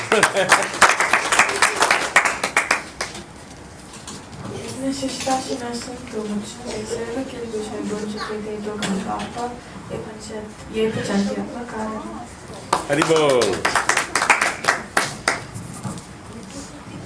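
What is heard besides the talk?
applause and clapping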